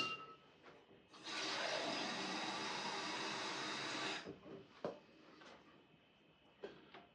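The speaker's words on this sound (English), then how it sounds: "I'm going to put some water in the crock pot" Water poured into a crock pot, a steady splashing stream lasting about three seconds, followed by faint clinks and handling noises in a quiet kitchen.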